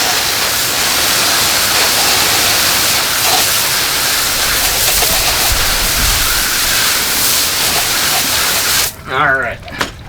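Hose water rinses painted tires treated with Dupli-Color tire paint, a loud steady broadband spray filling nearly the whole stretch before cutting off near the end, where a brief bit of talk follows.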